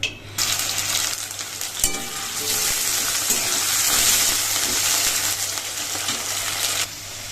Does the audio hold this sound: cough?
no